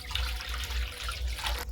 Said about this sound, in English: Now I'm going to go ahead and add water.